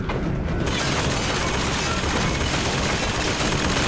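Sustained machine gun fire in a video game, a dense continuous roar of rapid shots that starts abruptly and stays loud and unbroken throughout, with no speech over it.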